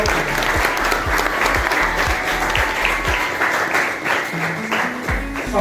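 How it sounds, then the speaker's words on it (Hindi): Loud audience applause welcoming a guest at a school science fair and silver jubilee festival in India, a sustained dense clapping with a low rhythmic drumbeat thumping beneath it throughout. "जोरदार तालियों से स्वागत करूं"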